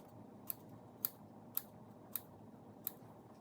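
Scissors snip chili peppers into small pieces over a cooking pot for Thai yellow curry with chicken: five sharp, crisp clicks spaced about half a second apart, close and clear over a quiet, low room hum.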